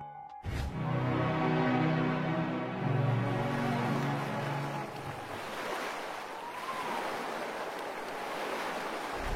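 Ocean waves on a sea ride wash and surge in a continuous broad rush after a brief sustained tone at the start, fairly loud and without talking.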